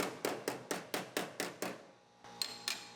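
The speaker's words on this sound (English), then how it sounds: "hammer it flat so it looks nice when it's going in the pile" A hammer strikes a drilled metal piece flat during floor and frame rail removal on a Mustang: about ten sharp, ringing blows in a steady rhythm, close and loud, with a brief pause before the last few hits.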